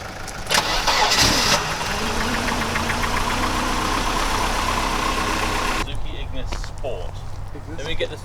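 A dead car, revived with jump leads from another vehicle, turns over and fires into a loud, steady running engine close by, holding a constant rumble before the note drops away near the end.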